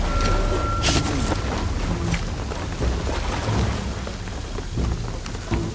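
Heavy rain pours steadily with rolling thunder in Shadow of the Tomb Raider, a dense, continuous downpour with low rumbles throughout and no talk.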